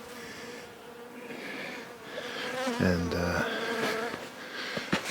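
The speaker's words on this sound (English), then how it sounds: "this is the kind of day too that where the bees just sort of will land on you like this" Honeybees buzz around a backyard hive on a winter day, a soft continuous hum close by with a louder, nearer drone passing briefly, while a person speaks quietly.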